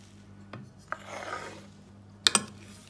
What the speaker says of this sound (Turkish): Tüm malzememizi karıştırıyoruz.